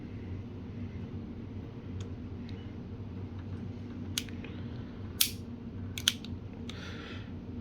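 Several short, dry hammer-cocking clicks from a Tokyo Marui SAA .45 Artillery toy revolver come in an uneven cluster, near and fairly soft, the first click very quiet, against a steady droning background.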